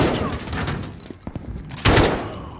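Gunfire rattles through a Modern Warfare (2019) campaign battle, with bursts of automatic fire and scattered shots over about three seconds, swelling into a loud close volley near the end.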